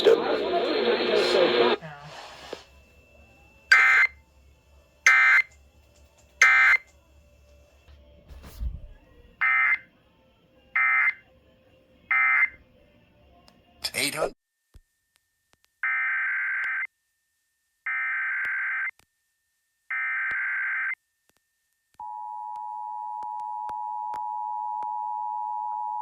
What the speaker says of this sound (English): Official messages would have followed the alert tone.